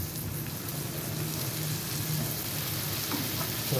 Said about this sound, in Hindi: सभी को अच्छा से हम फ्राई करेंगे।